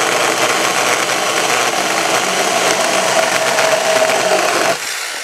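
A Tomyvic 6-inch battery mini chainsaw cuts through a roughly 6-inch-thick piece of wood at a campsite, giving a loud, steady close-up buzz that cuts off abruptly near the end.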